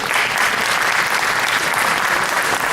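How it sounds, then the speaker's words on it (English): Guests at a charity fundraiser applaud to welcome a priest, a loud, close, continuous burst of many hands clapping together throughout. "Can we please give a round of applause and welcome him?"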